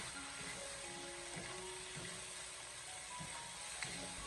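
Chicken pieces stir-fried with soy sauce and oyster sauce in a wok give off a low, steady sizzle with faint scraping of the spatula, quiet and continuous with no talking.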